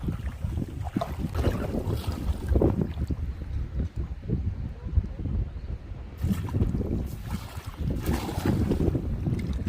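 Wind blowing hard across open sea during cast net fishing off a boat, a steady broadband rush with gusty swells and buffeting on the microphone, no talking.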